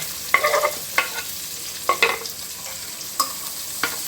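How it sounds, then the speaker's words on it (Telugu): Carrot, sweet corn and cabbage are stir-fried in oil, giving a close sizzle broken by several sharp scraping stirs of a spoon in the pan, with no talking. "ఇవన్నీ కాస్త ఆయిల్లో ఇలాగా కలిపేసుకున్నాము"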